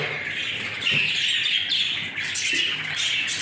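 Young Jumbo pigeons chirp and squeak continuously at close range in a loft, a busy overlapping chatter with no voices over it.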